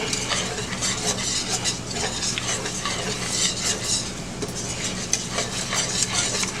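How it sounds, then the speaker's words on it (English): A flour roux sizzles steadily in a pan while a utensil stirs and scrapes through it, the frying hiss dense and close, with no voices. "The roux is a thickener, so let's cook that for a little bit."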